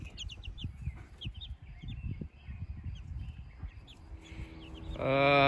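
Backyard flock of Marans, silver and white Wyandottes, Sapphire Gems and a Rhode Island Red clucking and calling in short bursts, with a louder sustained squawk near the end.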